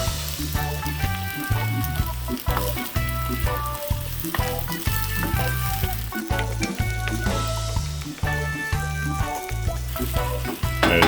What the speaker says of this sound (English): After you've heated up the rice and the onions in the oil, then add the egg.